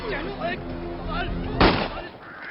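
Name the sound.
gunshot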